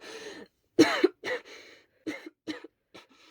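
A coughing fit, several harsh, barking coughs in irregular bursts with short gaps, close and fairly loud, the first ones strongest and later ones trailing off weaker.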